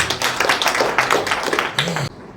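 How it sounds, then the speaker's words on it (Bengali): An audience claps at an award event in a hall. Dense, steady applause runs for about two seconds, close and fairly loud, then cuts off abruptly. "আমি সবার জন্য একটা জোরে করতালি আশা করছি।"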